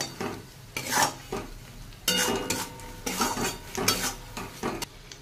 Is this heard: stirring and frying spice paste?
yes